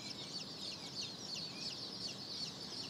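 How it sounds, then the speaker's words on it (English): A brood of black Marans chicks peeps continuously, a dense chorus of high, overlapping cheeps close by with a soft background hiss. "These baby chicks are the black Maran."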